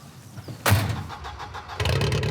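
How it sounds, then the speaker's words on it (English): Volvo S40 banger with a loud makeshift exhaust fitted, its engine bursting in abruptly and running rough and loud, then surging again after a brief dip. "With a makeshift exhaust fitted, it's now a very loud Volvo."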